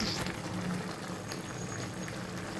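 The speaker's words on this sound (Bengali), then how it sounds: "এই মাছের মধ্যে দিয়ে একটা বলক তুলেই তরকারিটা নামিয়ে নেব।" A pot of bottle gourd and rui fish curry boils steadily, giving a continuous close bubbling and gurgling texture at an even level, with no voices.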